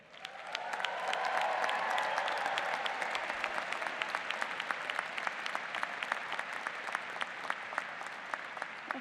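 Graduates and guests at the Clark University 2025 undergraduate commencement ceremony break into sustained applause and cheering, a dense wash of clapping from a large crowd that swells quickly and holds steady, with sharp individual claps standing out.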